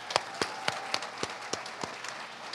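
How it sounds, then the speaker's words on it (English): Sparse, scattered claps from an evening event audience at a talk, about ten separate hand claps spread over a couple of seconds, fairly faint and distant with no voices. "give them a round of applause"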